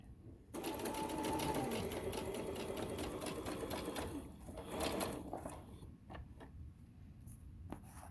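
A sewing machine stitches a tote bag along the presser foot edge, running in a steady loud whir for several seconds, then slowing into a few separate clicks and stops.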